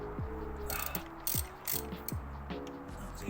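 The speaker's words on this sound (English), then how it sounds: "So we've got a 16mm socket right here. Just crack that spark plug right off." A ratchet on a 16mm socket works loose a spark plug on a Mk2 Audi TT with a misfire, giving several close, rhythmic bursts of ratcheting clicks with no talking.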